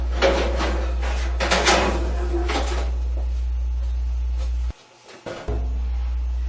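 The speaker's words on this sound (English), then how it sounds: "Pick up the drum and remove it." Metal drum lifted out of a General Electric dryer cabinet: hollow knocks and rattling scrapes close by, over a steady low hum, then a short muffled clunk near the end.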